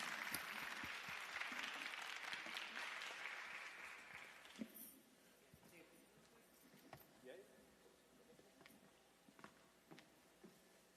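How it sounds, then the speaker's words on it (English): Audience applause at a live Sikh storytelling event in Chicago, a dense burst of clapping for the first few seconds that thins out to scattered claps by the end, with a voice speaking over it. "Another round of applause, everyone."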